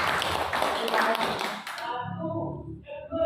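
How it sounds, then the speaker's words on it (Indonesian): An audience at a school teachers' gathering bursts into a dense patter of applause that fades after a couple of seconds, with voices audible through it. "Tepuk tangan dulu"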